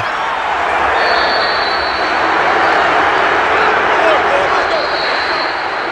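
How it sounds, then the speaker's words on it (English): Home crowd applauding in a Madden NFL 22 Super Bowl 55 game between Tampa Bay and Los Angeles, a dense, loud, continuous wash of stadium cheering and clapping with a commentator talking over it. "And the home crowd applauding."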